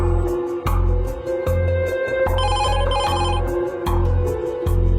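A phone rings over and over in a loud, regular electronic pattern, with bright chiming tones repeating in short bursts.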